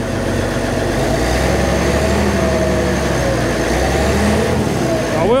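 A TD-15c crawler's diesel engine runs loud and close, a steady rough idle with a throttle blip near the end; a voice speaks faintly under the engine.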